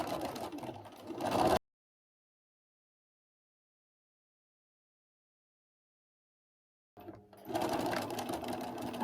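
Sewing machine stitches a fabric tube with a quarter-inch seam allowance, a close steady mechanical whir in two short bursts separated by several seconds of silence.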